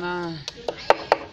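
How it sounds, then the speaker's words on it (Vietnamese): Eel bait being finely chopped, four quick sharp knife chops on a board following a brief tone, close by and fairly faint, with no talk over them. "các bạn băm cho nhỏ vào"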